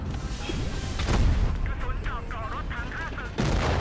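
Rapid bursts of heavy tank cannon fire and explosions in World of Tanks Blitz, booming repeatedly while electronic chirping effects flutter over a constant rumbling background.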